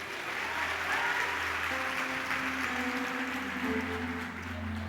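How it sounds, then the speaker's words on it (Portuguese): Congregation applauding for Jesus during a church sermon, a sustained wash of clapping with a low organ or keyboard chord sounding underneath throughout. "Dá uma salva de palmas para Jesus."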